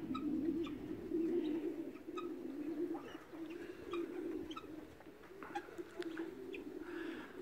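Racing pigeons coo softly and repeatedly inside a pigeon loft on a snowy winter day, faint and low, with a few light chirps and no talk.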